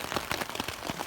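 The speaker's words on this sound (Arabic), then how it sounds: "خلنا نسمعو قطرات الشتا دابا. انت الشتا كطيح." Raindrops patter on a tent pitched on a mountainside, a dense close tapping with distinct irregular drops striking the fabric, steady throughout with no voices.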